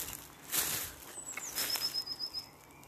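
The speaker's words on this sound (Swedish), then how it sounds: "Massa fåglar." Birds chirp and call outdoors in a residential area, a thin high whistle drawing out among faint rustles and fluttering in a quiet open space.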